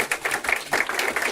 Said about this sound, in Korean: 강사님 고생했다고 이렇게 박수.